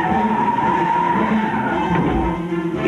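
Tires squeal in a loud, continuous skid as a Chrysler LeBaron GTS and a BMW 528e duel in a high-performance test, with sustained engine and road noise underneath.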